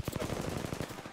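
Apex Legends gunfire comes in a quick, fast-rhythm burst of automatic shots, loud and close for about a second.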